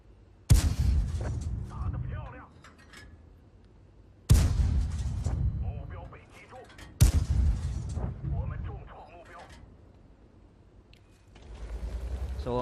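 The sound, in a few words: tank cannon firing APCR rounds in World of Tanks video game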